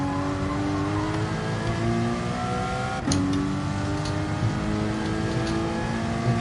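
A blowy, leaky-sounding car exhaust from a PS4 racing video game drones steadily with harmonic engine tones, rising and shifting in pitch with a brief gear-change break midway, loud and continuous with no voices.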